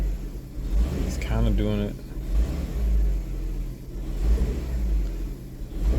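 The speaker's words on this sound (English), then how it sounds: "I'm gonna start up and put it right in reverse, hold the brake with my left foot and pat the gas" A Kia with misfiring cylinders starts and idles with a low, uneven engine rumble and a few light revs as it is put in reverse, while a voice talks briefly over it.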